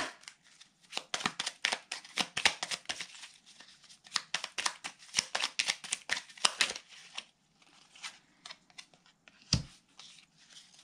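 Oracle cards being shuffled by hand, quick bursts of papery riffling and flicking, close and fairly quiet, with brief pauses between runs and no voice.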